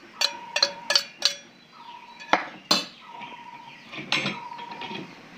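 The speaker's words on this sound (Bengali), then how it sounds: "সবগুলো উপকরণ আমি ভালো করে মিশিয়ে নেব।" A spoon clinks against a bowl while semolina batter is mixed with salt and chopped ginger, starting with a quick run of bright metallic taps and then scattered knocks and scrapes, close and fairly quiet.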